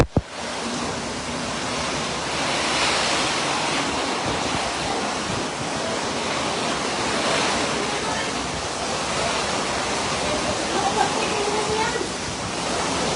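Typhoon Kristine lashes the area with heavy rushing water and wind, a steady loud broadband roar of rain and runoff that swells slightly, with a sharp knock at the start.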